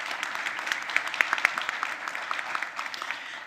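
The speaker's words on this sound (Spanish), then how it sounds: "Un aplauso para ellas, por favor" Audience clapping at a public panel event on open governance, a moderate, steady patter of many hands heard from a distance, without cheering.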